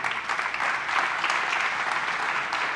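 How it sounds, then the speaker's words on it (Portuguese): Applause from a church congregation during a sermon, a steady dense wash of clapping at even loudness throughout, with no talking. "Você pode dar um aplauso ao Senhor aí?"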